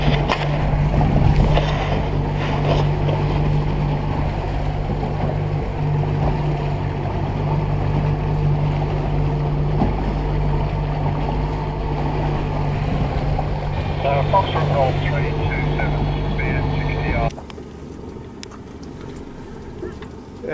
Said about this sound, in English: There's the old Navy puttering in their submarine.